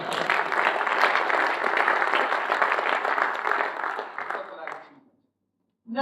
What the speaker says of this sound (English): I must ask you to give yourselves a round of applause.